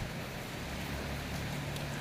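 Steady rain falls outdoors, a dense even hiss of moderate loudness with no voices.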